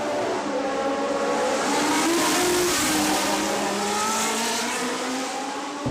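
Historic race cars at the Monaco Historic Grand Prix roar past continuously, engines droning and shifting pitch as they accelerate through the street circuit, loud and sustained with a faint tire squeal.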